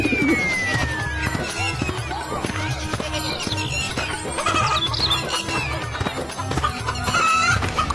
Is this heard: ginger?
no